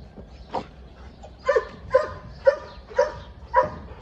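Podenco hunting dogs in their kennels whimper and yip in a series of about six short, sharp bursts at fairly regular intervals, close by, over a low background hum.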